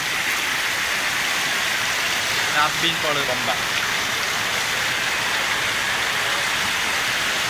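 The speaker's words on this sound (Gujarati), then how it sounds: "આ વખત પહેલી વખત આટલો વરસાદ ચાલુ થયો" Heavy rain pours in a steady, dense hiss, with a voice speaking over the downpour.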